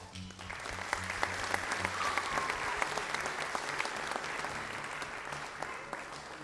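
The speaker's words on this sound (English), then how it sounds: "Let's give these three a round of applause as they exit the auditorium" An auditorium audience at an ambassador coronation applauds steadily for about six seconds. The dense crowd clapping is loud and sustained, with a faint low hum underneath.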